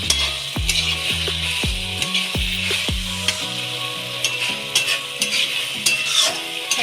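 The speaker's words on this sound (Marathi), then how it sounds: "आपले मंचुरियन जे ड्राय आहेत ते एकदम असे फ्राय झालेले आहेत" Dry veg manchurian fries and is stirred in a pan, giving a constant loud sizzle broken by repeated scraping and clinking strokes of a spoon against the metal, with no voices.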